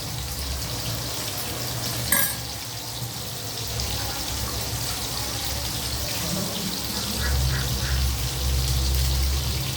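Steady crackling sizzle of chicken frying in hot oil, close and continuous, rising slightly louder toward the end.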